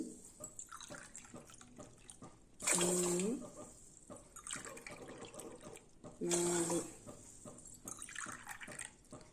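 Tumblers of water poured onto red rice and lentils in a cooker for sweet pongal, with two separate splashing pours of a few seconds each. Someone talks throughout.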